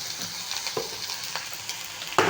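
Potato, carrot and other vegetables frying in a pan with a steady close sizzle, and a spoon scrapes and stirs through it at intervals.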